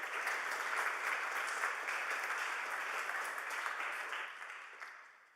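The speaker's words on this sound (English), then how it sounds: "Round of applause" A conference audience in a large lecture hall gives a speaker a round of applause, a dense, even patter of many hands heard from a distance that holds steady, then tapers and fades out.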